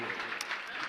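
A brief patter of distant audience clapping drifts in from far away during a spiritual discourse, soft and diffuse under a faint murmur.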